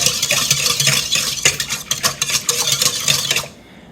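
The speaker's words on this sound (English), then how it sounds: "I just whisk that together, get it all stirred up." A whisk beats a yeast mixture in a bowl for bread dough, making quick scraping and clinking strokes against the sides. The rapid, uneven rhythm carries close and loud, then stops near the end.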